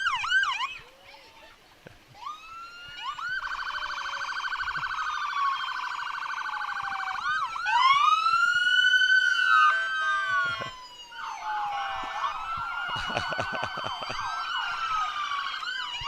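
Police sirens wail and yelp while passing in a county fair parade, loud and close, rising and falling in overlapping tones with a short lull before another siren run starts.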